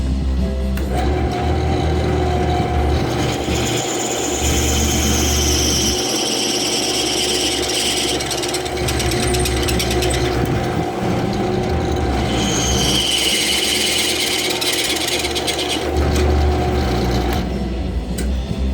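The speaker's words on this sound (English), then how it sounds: "I'm going to go ahead and drill the 1/4 inch hole" Drill with a masonry bit boring a 1/4 inch hole through titanium, giving a loud, continuous grinding screech with shifting squealing overtones, steady for almost twenty seconds, close and alone.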